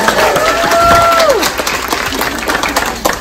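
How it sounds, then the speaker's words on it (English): At a charity event, a crowd gives a loud round of applause, with dense clapping that swells and then thins over a few seconds while a brief whistle or tone rises above it. "So again, give yourselves a round of applause."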